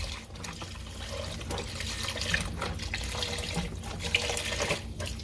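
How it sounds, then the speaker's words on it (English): Tap water runs steadily into a kitchen sink while a small measuring cup is rinsed, a continuous close splashing rush with no talking. "I'm going to rinse out my little measuring cup real quick"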